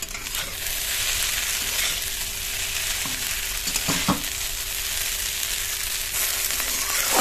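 Chow mein noodles with masala and fried egg sizzle steadily in a hot pan, a continuous close frying hiss with occasional stirring scrapes and no talking.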